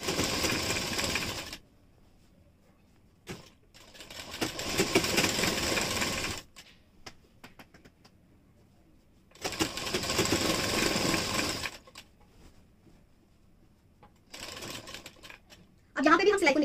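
A sewing machine stitches the folded side slit of a kurti in two loud bursts of a few seconds each, with quiet gaps of hand handling between, and a shorter burst near the end.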